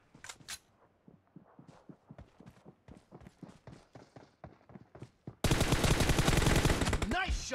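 Gunfire in the PUBG video game, heard first as a run of separate light pops, then as a sudden loud, rapid automatic burst that carries on to the end.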